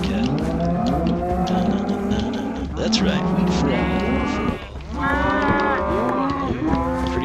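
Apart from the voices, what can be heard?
cattle mooing in the video game Minecraft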